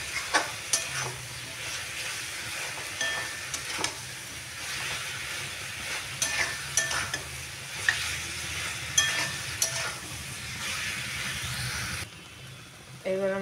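A spiced dish with chili powder frying over high gas heat while being stirred in a pan, a continuous sizzle broken by repeated scraping and clattering strokes, fading quieter at the end.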